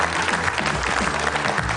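A short, loud burst of studio audience applause at a Georgian TV talent show, dense clapping under a low musical hum that carries on to the end.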